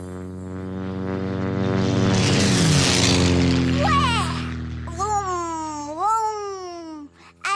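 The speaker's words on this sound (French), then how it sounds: "ce sont les avions qui font le plus de bruit" Propeller airplane setting down on a runway in a cartoon scene, a loud sustained engine drone that swells to a peak and then tapers off, with children's voices chattering over the later part.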